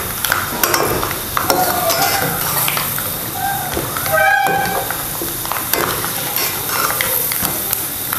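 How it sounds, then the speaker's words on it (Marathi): Grated coconut frying in hot oil in a pan while stirred, a steady dense sizzle with scraping and clinks of a spoon throughout, moderately close. "थोडंसं आपण लालसर होईपर्यंत आपण हे तेलामध्ये तळून घेऊया"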